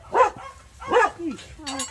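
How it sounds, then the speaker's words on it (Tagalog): Several farm dogs fighting and barking, with two loud, close barks and yelps about a second apart, followed by lower growling whines. "Pero araw nagra-rambol yung mga aso namin dito sa farm."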